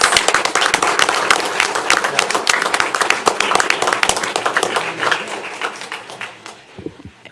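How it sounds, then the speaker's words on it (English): A small group clapping loudly and close for a young tennis player at a city commission meeting, sharp distinct claps in a quick uneven patter that thins out near the end. "how about a big round of applause for Uther Rodriguez?"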